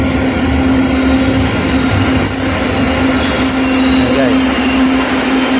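LRT Line 2 train at a station, a loud continuous rumble of rolling wheels with a steady high-pitched squeal and hum throughout.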